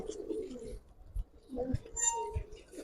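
Giribaz pigeons coo in soft, low, rounded bursts close by, with faint clinks and chirps and someone talking intermittently nearby.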